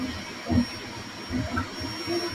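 A Creality K1 Max 3D printer runs fast with its lid off, giving a fairly loud steady whir and hum with rhythmic pulsing motor tones rising and falling, and no voices.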